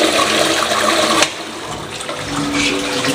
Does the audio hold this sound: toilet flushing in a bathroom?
yes